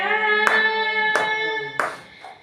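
A church congregation claps along to a devotional worship song, with four sharp, evenly spaced claps over sustained singing voices.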